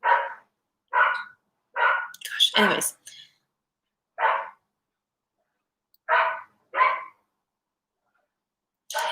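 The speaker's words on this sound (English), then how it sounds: "Sorry about the dog." A dog barks in single sharp woofs spaced a second or so apart, about eight in all, fairly close; a voice speaks briefly among them.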